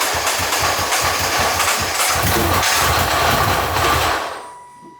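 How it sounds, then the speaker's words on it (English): A wrecked Nissan GT-R engine runs with no boost, drawing air straight through its throttle bodies: a loud, rough, pulsing idle that holds steady for about four seconds, then cuts out and fades. "the engine's just trying to pull air straight in through these throttle bodies"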